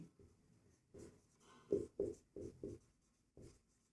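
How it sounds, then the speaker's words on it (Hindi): Pen or chalk strokes writing out a Class 10 quadratic equations solution for a rectangle's area: a few short scratchy bursts in an irregular rhythm, close and fairly quiet, with pauses between strokes. "यहाँ लिखते हैं क्योंकि"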